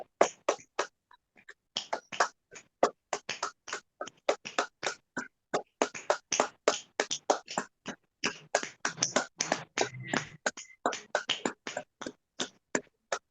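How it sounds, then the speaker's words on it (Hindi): Loud hand clapping during a morning group motivation session, a long run of sharp, closely spaced claps in an irregular rhythm with a few short pauses. "हम अपने शरीर को गतिमान रखने के लिए जोर जोर से ताली बजाएंगे।"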